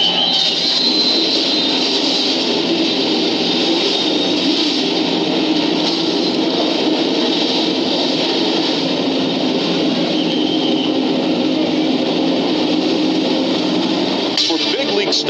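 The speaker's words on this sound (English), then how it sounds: "Drivers, start your engines." Stock car engines at Daytona for a 2010 Lucas Oil Slick Mist 200 starting grid roar in a dense, sustained drone from a field of cars, loud and steady throughout, with a brief burst of other noise near the end.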